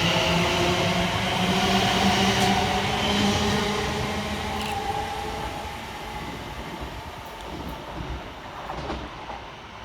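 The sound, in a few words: Class 221 train arriving at Barnt Green station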